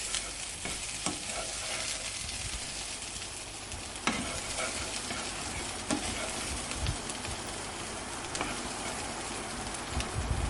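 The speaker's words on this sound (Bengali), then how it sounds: "ডিমটা হালকা ভাজা হয়ে গেলে এটা আমরা ঝুড়ো ঝুড়ো করে নেব" Beaten egg sizzles steadily in a hot pan while a spatula scrapes and breaks it into scrambled pieces, with occasional sharp taps against the pan and no talking.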